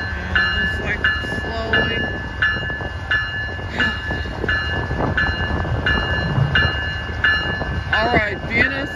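A Montana Rail Link freight train passes close by with a loud, continuous rumble, a regular run of clanking wheel beats, and a voice speaking briefly over the noise.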